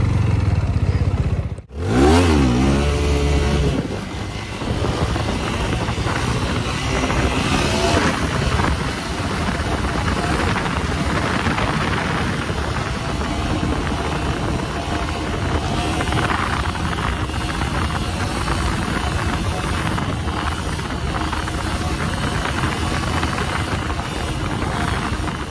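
A motorcycle engine revs hard through gear shifts during a long wheelie, a loud, close, continuous roar that rises and surges after a brief sharp dip near the start.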